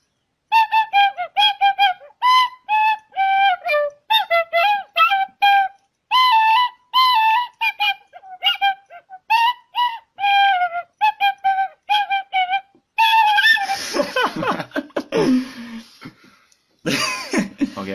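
A shrill, breathy tin whistle plays a bouncy melody in short repeated notes, then gives way to rustling, breathy noises near the end.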